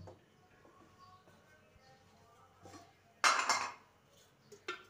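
A metal cooking pot is picked up and set down for tempering besan palak patodi: a loud, sharp clatter bursts out midway, surrounded by a few softer clinks in an otherwise quiet kitchen.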